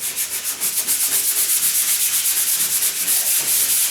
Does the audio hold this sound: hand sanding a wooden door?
yes